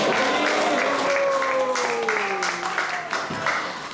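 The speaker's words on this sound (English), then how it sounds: "Let's give a round of applause again for Janadana Maharaj." An audience at an ISKCON temple kirtan night in Atlanta claps in a steady round of applause while a voice with sustained, sung or drawn-out tones carries over the top.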